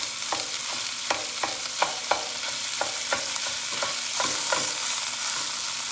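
Sausage being stirred and broken up in a frying pan with a utensil, for biscuits and sausage gravy: a steady sizzle runs underneath while sharp scraping strokes land at a brisk, uneven rhythm, close and fairly clear.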